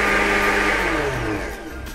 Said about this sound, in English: I'm taking 2 cups of the stew and adding it to a blender.